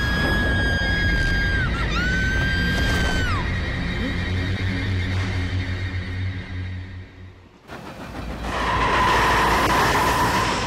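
A train running along the rails, a steady loud rumble with squealing high tones that drops away briefly before surging back up close.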